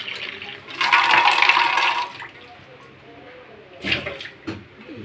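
Tap water pours in a loud, splashing rush for over a second, then fades to a low trickle, with a couple of short clattering bursts near the end.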